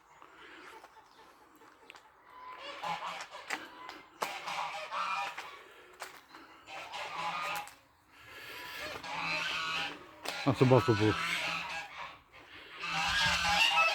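Hungry geese honk and clamour in repeated loud bursts across the yard, near and raucous, while a person talks briefly in between.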